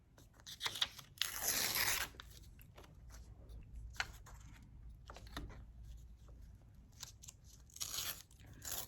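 Paper is torn by hand to give it a rough edge while making a collage, with close crisp ripping and crunching bursts, one longer tear early on and several shorter rips later, without talk.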